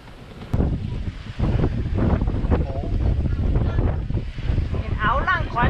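Wind rushing over a sailboat under way off Denmark, a steady blustery roar buffeting the microphone, with water noise and a voice speaking over it.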